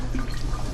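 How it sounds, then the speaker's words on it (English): Ice water is poured over the top of a flask in a chemistry demonstration, giving a steady close trickling and splashing of liquid that lasts the whole brief moment, with no talking. "As I pour this water over the top"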